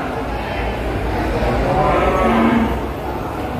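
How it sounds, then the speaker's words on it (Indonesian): A Pegon breed cow, with a spotted leopard-like coat, gives a low moo through steady outdoor noise, with people talking nearby. "Ini sapi pegon."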